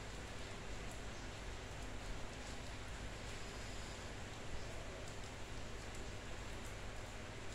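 Steady rain falling outside a home during a midday meal, a constant close hiss with no individual drops standing out and no talk over it.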